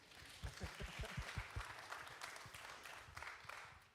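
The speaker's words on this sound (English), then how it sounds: "Yeah, clap for that" Audience applause at a film festival talkback, a moderate, fairly quiet run of clapping from a seated crowd, with a few isolated claps standing out near the start.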